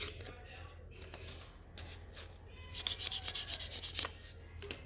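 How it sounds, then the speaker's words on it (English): Sandpaper rubs over a painted wooden sign, starting with soft intermittent scuffs and building into a run of quick, rhythmic back-and-forth strokes near the end. "Grab our sandpaper."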